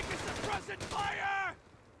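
Suppressing machine gun fire in the World War II strategy game Company of Heroes 3, bursts of rapid shots mixed with shouted unit voice lines and other game effects, loud and busy.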